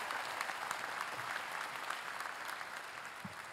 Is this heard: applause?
yes